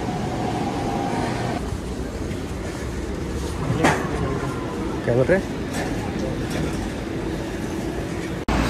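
A metro train rides out from Waterfront station in Vancouver, with a continuous rumbling roll and a few faint clacks and squeals while people talk aboard.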